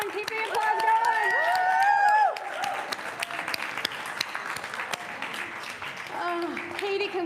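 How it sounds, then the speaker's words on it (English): A church congregation applauds loudly and continuously, with scattered cheers and voices mixed in over lingering organ or keyboard tones that fade as the clapping carries on. "keep the applause going. Keep the applause going"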